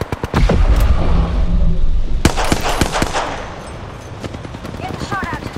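Video game gunfire: sharp, close shots, some in quick bursts and others spaced apart, then trailing off into quieter pops with voices mixed in.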